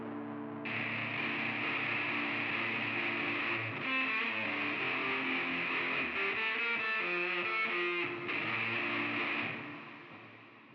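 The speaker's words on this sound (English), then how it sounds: "in GarageBand, I have some extra reverb right there that I just added to make the guitar feel more surround soundy and more shoegazy" Electric guitar played through added reverb in GarageBand, a wash of sustained shoegaze-style chords and shimmering notes that swell and blur together for about ten seconds before fading, heard alone.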